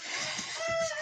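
Older hens on a Romanian farm cluck near a sleeping cage, a short burst of soft, throaty clucks and one brief drawn-out call, fairly faint and close, with no talk.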